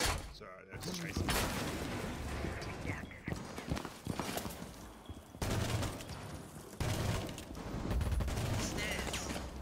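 Bursts of close gunfire in a Rainbow Six Siege match, arriving in several loud clusters separated by brief lulls, with in-game clatter mixed in.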